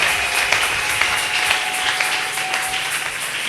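A church congregation claps and applauds together in a steady, dense wash of hand claps, loud and close throughout with a faint sustained tone underneath and no talking.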